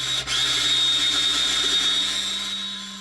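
A power drill bores into a bank safe deposit box, giving a loud, steady high-pitched whine that holds for about three seconds after a brief dip at the start and then fades slightly, with no talking.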